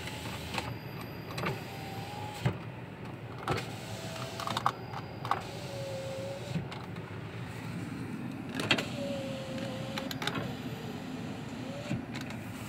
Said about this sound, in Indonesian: Power windows kita coba.